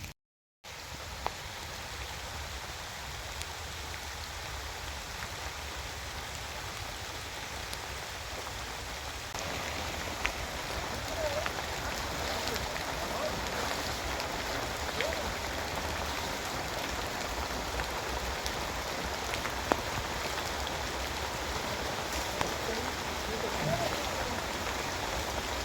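Heavy rain pours steadily on a garden with a custard apple tree, a dense, continuous hiss of drops on leaves and ground that grows slightly fuller partway through, with no talking.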